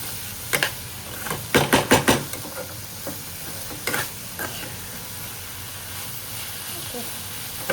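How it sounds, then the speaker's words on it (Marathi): Kantoli (spiny gourd) vegetable is stirred in a pan over a gas flame, with a soft sizzle and a quick burst of scraping strokes followed by scattered stirs, while someone talks. "आता गॅस थोडं वाढवते आणि मस्त छान अशी कंटोलीची भाजी मिक्स करून घेते"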